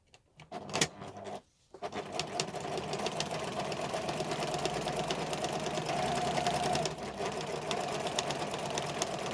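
A close sewing machine stitches a bum bag pocket with small stitches. It starts with a couple of short bursts, pauses briefly, then hums and rattles steadily at an even pace.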